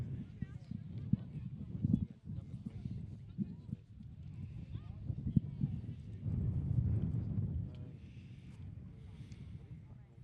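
Horses' hooves thudding across a grass field during a women's A-grade polocrosse match, irregular drumming beats beneath an announcer's continuous commentary and outdoor wind noise.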